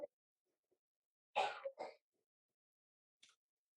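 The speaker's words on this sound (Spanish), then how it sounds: "Si escuchan en el fondo mi esposita tosiendo" A woman coughs faintly in the background: two quick, close coughs, then a short third one after a pause. There is silence in between and no talking.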